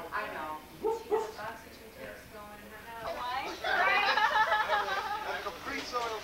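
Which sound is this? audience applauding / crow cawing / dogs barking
dogs barking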